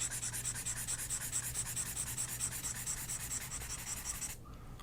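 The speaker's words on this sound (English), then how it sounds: "the Note Air 3C. Let's go ahead and see what that sounds like using the pen that comes with the device" The bundled stylus scratches across the e-ink screen of an Onyx Boox Note Air 3C in light, continuous strokes with a faint rhythmic texture. It sounds soft and close and stops abruptly near the end.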